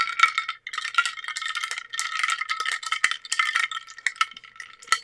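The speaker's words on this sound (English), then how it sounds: "So, I take it and I just stir it up." Spoon stirring an eggnog White Russian with vanilla in a glass, continuous bright metallic clinks and rattles in quick irregular bursts, close and clear with no voices.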